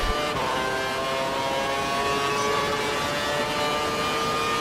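A Formula 1 car from the racing game F1 2012 howls through a qualifying lap at Melbourne, its steady high-pitched engine whine sustained and even throughout with no voices over it.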